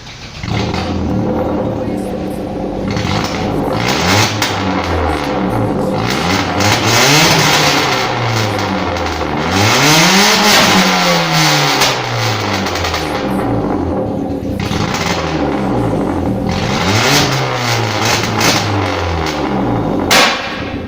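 A loud car engine with its mufflers removed revs repeatedly with a raw, unmuffled roar, pitch sweeping up and falling back in surges, close by and continuous.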